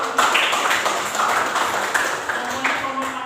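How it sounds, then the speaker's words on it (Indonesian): Students in a classroom clap for a classmate, a short round of scattered, uneven hand claps at close range, with a voice speaking underneath. "Beri tepuk tangan dulu untuk Arjuna."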